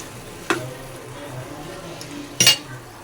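Beef sizzles as it cooks in a pan, a steady low hiss running throughout. Two sharp utensil clinks stand out against the pan, one early and a louder one near the end.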